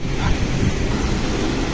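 Fast floodwater of the Uma river rushing during heavy monsoon rain, a dense, loud, continuous roar with wind buffeting the microphone, no voices.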